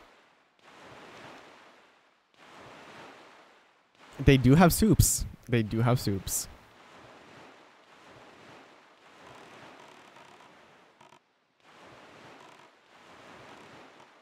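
A boat skims across open ocean in Wind Waker, with rhythmic swells of wave and wind noise every second or so and a person talking briefly in the middle.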